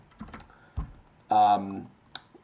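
A few sparse, close taps on a computer keyboard while a Python function is typed, broken by a brief stretch of a voice speaking.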